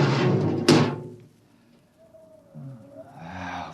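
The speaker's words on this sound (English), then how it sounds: "Open the airlock." A spaceship airlock door in a radio drama opens with a loud mechanical thud and burst of noise, then a thin sustained whine trails off before low voices come in near the end.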